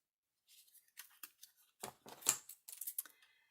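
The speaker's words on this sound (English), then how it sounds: "I'm going to just cut this off and cut it loose." Scissors snip through a playing card in a series of short, crisp cuts, close and clear, with brief pauses between bursts of several quick snips.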